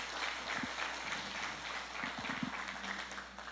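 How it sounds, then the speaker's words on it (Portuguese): Congregation at a men's church congress applauding, a steady wash of clapping that runs the whole time at moderate level, with a few low thumps scattered through. "Dá um aplauso ao Senhor."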